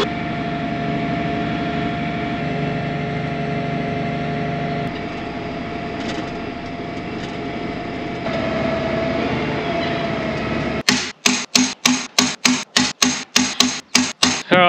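John Deere 8370RT tracked tractor on the move, a steady loud engine drone and track rumble heard from close by, later giving way to a run of sharp, regular metallic clanks.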